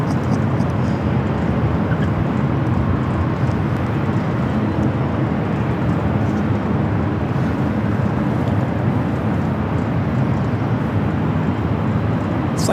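A British Airways airliner passes at a busy airport, a broad, steady jet roar that fills the whole stretch at an even, loud level with no voices.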